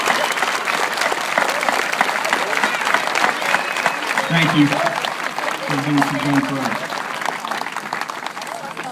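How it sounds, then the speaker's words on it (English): Steady applause from a graduation audience runs throughout, loud and continuous, with a person speaking briefly over it near the middle. "Would you give these people a round of applause, please?"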